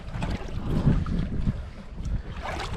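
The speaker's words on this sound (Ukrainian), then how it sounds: "Моторчик напарований, Марійка красавиця моя сидить, йдемо до другі острова" A small outboard motor drives a boat between lake islands on a pike fishing trip in Canada, a rumbling low drone heard close, mixed with buffeting wind noise on the microphone and no talking.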